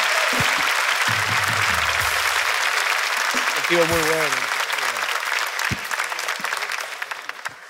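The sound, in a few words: audience applause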